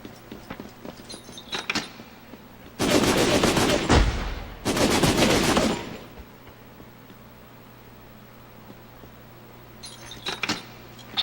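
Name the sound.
gunfire in the video game Syphon Filter: The Omega Strain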